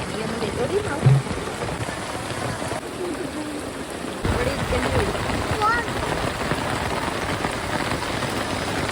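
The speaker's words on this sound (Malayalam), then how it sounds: "അടിപൊളി മഴ" Heavy rain pours steadily onto a shed roof, a dense, loud hiss of drops that swells a little partway through, with a voice briefly audible under the downpour.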